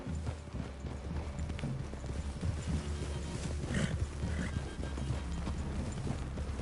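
Horses' hooves clip-clop in a steady walking rhythm across the ground in Red Dead Redemption 2, close and moderately loud, with faint snorts and ambient outdoor game sounds around them.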